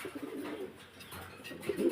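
Pigeons at a pigeon farm give faint, low cooing in scattered bursts, the loudest coming at the very end, with no voices present.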